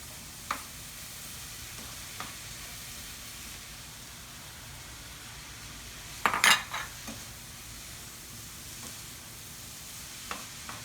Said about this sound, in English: We're going to go ahead and fold in our ground turkey now.